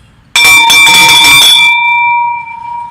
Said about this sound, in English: That bell's on its last days.